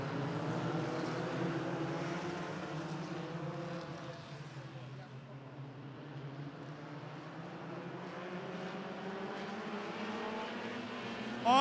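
Stock cars at Barrie Speedway drone around the oval in a steady, layered engine roar as the pack pulls past, with race commentary talking over the noise throughout.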